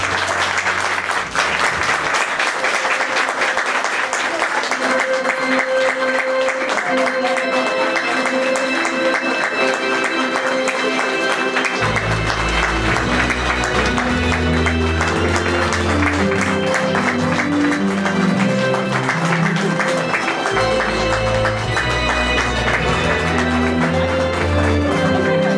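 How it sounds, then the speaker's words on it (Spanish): Guests at a wedding in Cuba applaud the newlyweds with sustained clapping that runs loud and unbroken for the whole stretch, mixed with lively music playing underneath. "vamos a recibir con el fuertísimo aplauso a los ya recién casados"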